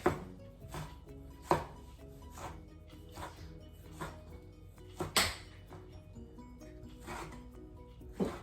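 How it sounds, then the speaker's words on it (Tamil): A knife chopping tomato on a board for a raw bitter melon sambol, producing a series of crisp, irregular cuts with quiet gaps between them, close and fairly soft, with no voices. "இதோட சேர்த்து போடுறதுக்கு இந்த தக்காளி பழத்தையும் வெட்டி எடுத்துக்கொள்வோம்"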